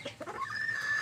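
An SBR rooster, a large, tall backyard-bred gamefowl, gives a few short, close clucks at the start, followed by a sustained thin tonal call that carries on to the end.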